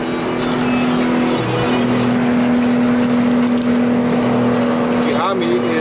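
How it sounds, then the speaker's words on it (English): A small Honda on the road to a Honda and Acura car show, its engine holding a steady drone with road rumble throughout, a tone shift midway, and a voice talking over the cabin noise. "I am in my little Honda right now, driving to Jake Allen's second annual Honda and Acura car show"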